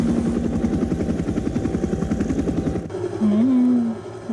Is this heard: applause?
no